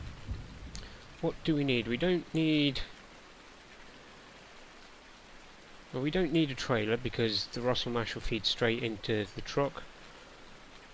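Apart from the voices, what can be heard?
rain falling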